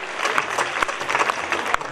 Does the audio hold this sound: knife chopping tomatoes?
no